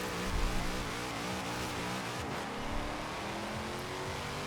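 An underpowered car in Forza Horizon 4 launches hard and spins its wheels, a steady engine drone with rising harmonics carrying on through first gear with no talk over it.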